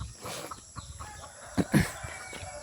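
Chicks and hens cluck and peep while being fed in a backyard coop, their short scattered calls rising into a few louder squawks over a faint, steady background hum.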